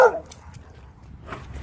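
A dog, a Malamute, Labrador or Pug, lets out one loud, close bark right at the start, followed by quiet room noise and a faint rustle near the end.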